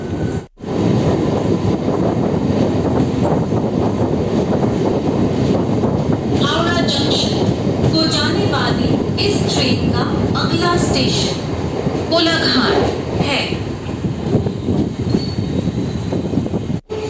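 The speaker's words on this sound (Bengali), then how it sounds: "মেচেদা থেকে আমাদের ট্রেন এই শব্দে ছাড়লো" A train rumbles steadily with loud rolling noise and squealing wheels, the sustained roar of a train pulling away from Mecheda station at night, heard from on board.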